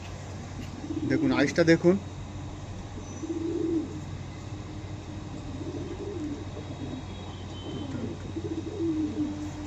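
Pigeons kept by a pigeon fancier coo in soft repeated bursts near and far across the stretch, while someone speaks briefly over the first part and a steady low hum runs underneath.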